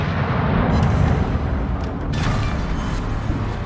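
Naval guns fire in the World of Warships game, aboard the battleship Rhode Island, producing heavy, rolling booms with a deep rumble that fills the whole moment loudly and continuously.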